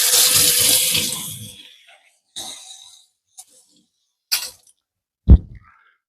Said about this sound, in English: Let me rinse this off because I've licked it.